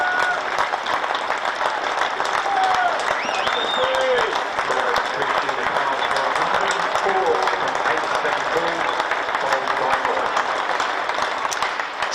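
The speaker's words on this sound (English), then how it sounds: "listen to that applause" Cricket crowd at an Essex Eagles v Glamorgan match applauds a batsman's century of 104, sustained broad clapping with scattered shouts and whistles carrying across the ground for the whole stretch.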